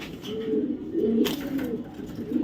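Racing pigeons coo close by in a pair of repeated soft, throaty rolling calls, each swelling and fading, with a faint background hum and no speech.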